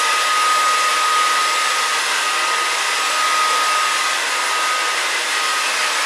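A hair dryer blows continuously at close range, a loud, even airy whoosh with a steady high whine, as hair is being blow-dried after a cut.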